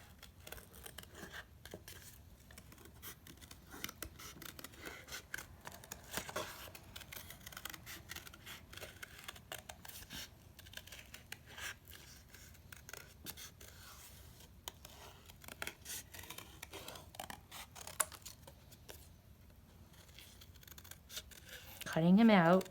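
Scissors snip steadily through a recycled cracker box, cutting out an animal shape, with soft crisp cuts and cardboard rustling close by throughout, and a brief louder burst near the end.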